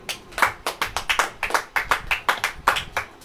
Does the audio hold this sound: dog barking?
no